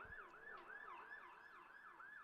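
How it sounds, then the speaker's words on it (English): An emergency vehicle siren wails steadily in a rising-and-falling cycle, repeating about every half second, faint and distant behind a men's college soccer game against Hope College, with no one talking over it. "Some sirens in the background."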